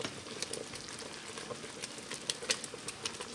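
Peach and apricot pepper jam boiling in a pan, giving a quiet, continuous bubbling hiss with scattered small pops and spits, close but faint.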